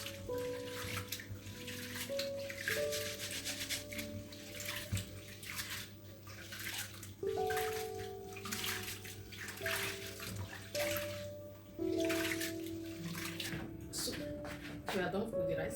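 Hot tap water running into a pot as rice is washed in it for a home-cooked rice dish, a steady close splashing and trickling that continues throughout, with a voice talking over it.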